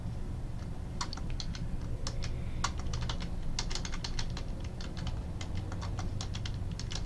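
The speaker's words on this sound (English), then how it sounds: "Let's say you type something wrong by accident" Rapid, uneven keystrokes on a computer keyboard as a command is typed, a steady run of close, crisp clicks over a low background hum, with no voices.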